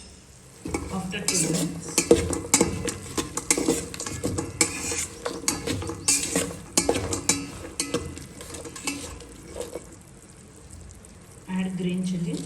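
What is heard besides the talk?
sprouts pulao frying and being stirred in a pan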